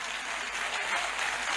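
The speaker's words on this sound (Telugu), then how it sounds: "ఒక్కసారి వీళ్ళకి గట్టిగా చప్పట్లు కొట్టండి" A large audience in an auditorium at Hari Hara Kala Bhavan breaking into dense, continuous applause, a steady wash of clapping heard from a distance without letup.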